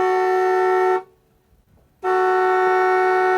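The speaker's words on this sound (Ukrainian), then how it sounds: "Це велика машина. А чому вона сигналить?" A loud, steady truck horn blares for a second, stops briefly, then sounds again in another long, sustained blast.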